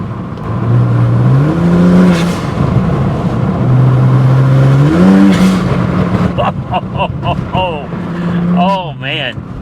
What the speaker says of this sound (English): Oh man, that blow-off valve is wicked. Love the sound of that thing.